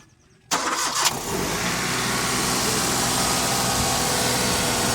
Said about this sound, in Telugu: ఒకసారి బండి స్టార్ట్ చేసి చూపిస్తాను